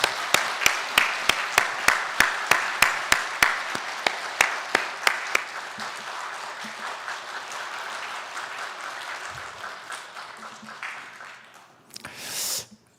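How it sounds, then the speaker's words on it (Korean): Sharp, rhythmic clapping opens loud and evenly spaced, then blends into a softer wash of church congregation applause during a Sunday service that gradually fades. "큰 박수로 환영해 주시기 바랍니다."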